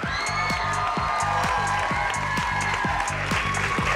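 An audience claps and cheers for a singer's entrance on a music competition stage, a loud, sustained crowd roar over a steady thumping beat.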